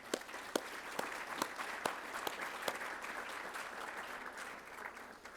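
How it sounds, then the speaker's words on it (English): Applause from a banquet audience at a county business hall of fame event, moderately distant steady clapping with scattered louder individual claps, no talking. "And you all deserve a round of applause"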